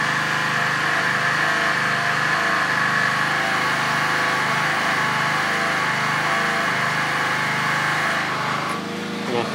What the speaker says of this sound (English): And I can turn the generator off.